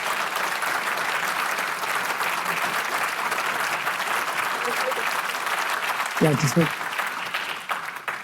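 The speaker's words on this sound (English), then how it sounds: "Let's all give a round of applause for Aviva and Keith Siegel." Sustained applause from a large audience honoring Aviva and Keith Siegel fills the room at a steady roar, with a few whoops or brief voices breaking through near the end before the clapping starts to thin.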